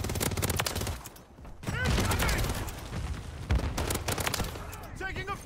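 Heavy in-game gunfire from Call of Duty: Modern Warfare 3 crackles in rapid volleys and scattered bursts, loud and close, with a voice talking over parts of it.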